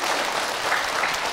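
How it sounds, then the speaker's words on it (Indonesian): Brief burst of audience applause at an Islamic lecture, a dense wash of clapping from the assembled crowd, moderately loud and continuous for a moment. "Tepuk tangan untuk kita semua."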